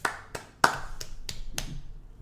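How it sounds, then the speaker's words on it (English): A quick run of about six sharp hand claps from a small group in a podcast studio, crisp and close with a slight room ring, the first burst loudest. "Can we like 3 claps for that?"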